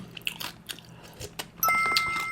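Crunchy bites of kkakdugi radish kimchi eaten close up, a few sharp crisp crunches at irregular intervals, then a brief high electronic tone near the end.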